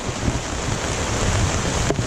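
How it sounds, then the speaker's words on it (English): Heavy rain pours down outside a tent at a campsite on a canoe trip down the French River, a dense, steady broadband wash that stays loud and even throughout, with no voices. "the water's just pouring outside"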